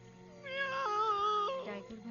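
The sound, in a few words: voice imitating a cat meow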